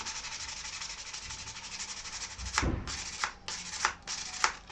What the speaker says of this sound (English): All right, hit that with a bit of sandpaper.